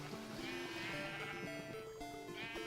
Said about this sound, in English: Look at those little naked sheep.